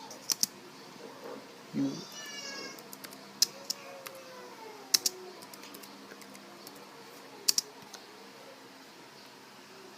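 Scattered keystrokes on a computer keyboard tap out as sharp, sparse clicks in a quiet room, and a cat meows briefly near the start.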